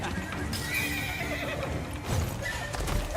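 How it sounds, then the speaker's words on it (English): In the martial-arts video game Where Winds Meet, a horse lets out loud, shrill whinnies over steady galloping hoofbeats, close up and dense across the whole stretch with game ambience beneath. "That is an insane horse."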